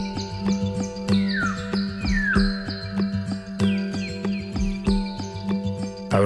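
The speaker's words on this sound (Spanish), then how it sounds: "Lentamente el sonido de los pájaros indica que es tiempo de levantarse." Birds chirp and tweet steadily at dawn with bright, repeated calls and descending trills, layered over a continuous low hum and soft background tones.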